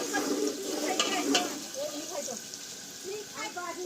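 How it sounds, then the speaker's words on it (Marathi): Green chili, ginger and garlic masala fries in oil over a wood-fired clay stove, producing a soft sizzle with occasional stirring clinks under nearby talking voices. "मिरची अद्रक लसूण लाल होईपर्यंत मसाला शिजवून घेत आहे"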